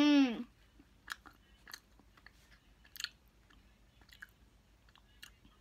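Close-up chewing of mint cookie crumble ice cream with chocolate chips, soft crunches and wet clicks scattered through the quiet, after a brief voiced hum at the start.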